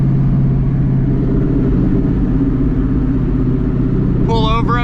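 A car with a Holley Hi-Ram intake, solid roller cam and CNC heads roars hard and steady under acceleration, loud and close throughout, with a brief voice breaking in near the end.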